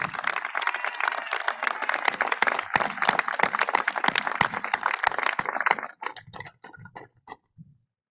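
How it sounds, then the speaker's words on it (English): A graduating high school class stands and applauds its faculty at a commencement ceremony, producing dense, sustained clapping that fills the hall for several seconds before thinning out into a few scattered last claps. "Students, please rise, face the faculty, and applaud them for their work"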